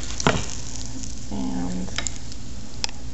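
Rice and meat for arroz con carne sizzling in a pan while being stirred, a steady close frying hiss with scraping stir sounds and a brief spoken word.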